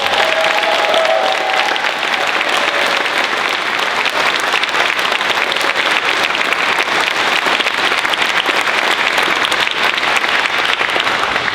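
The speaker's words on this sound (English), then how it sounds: "Let's give them a hearty round of applause." An audience at a hall of fame induction ceremony claps in steady, sustained applause, dense and even throughout with no voices rising above it.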